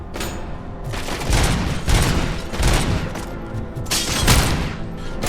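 Sustained, loud machine-gun fire in the RoboCop: Rogue City video game, with continuous rattling bursts and several heavier booming peaks throughout.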